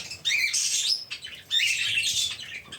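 Young birds chirp and squawk in rapid, high-pitched bursts, close by, with a short pause midway before the chattering resumes.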